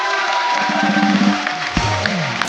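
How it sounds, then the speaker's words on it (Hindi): Studio audience on a comedy talk show applauding and cheering to welcome actress Sonakshi Sinha, a dense loud wash of clapping with crowd noise and some voices and music mixed in. "सोनाक्षी के लिए जोरदार तालियां."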